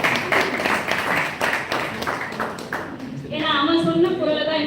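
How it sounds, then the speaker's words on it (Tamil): Audience applause at a stage event, a burst of clapping under and after a speaking voice, fairly close and moderately loud, with talk resuming over it. "அவங்களுக்கு தான் கைத்தட்டல் கொடுக்கணும்."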